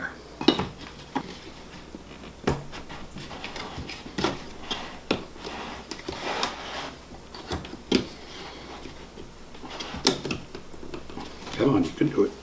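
Someone working a reusable plastic mixing lid onto a paint can: a series of sharp plastic clicks, taps and knocks against the metal rim, spaced unevenly over several seconds and close by, with a faint voice in places.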